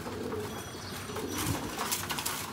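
Pigeons cooing softly on a rooftop while being fed, low repeated coos with a brief flutter of wings and light chirps, fairly faint and close.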